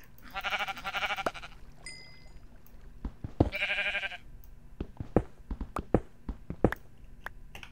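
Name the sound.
sheep bleating in a video game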